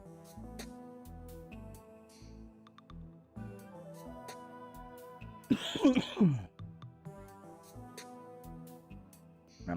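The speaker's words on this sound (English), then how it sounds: "I've had this frog in my throat for like the last half an hour or so. I cannot stop coughing." A gamer coughs and clears his throat in a short, rough burst near the middle, close to the mic, over steady video game music with soft ticking sounds.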